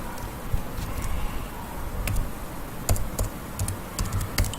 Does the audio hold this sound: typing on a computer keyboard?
yes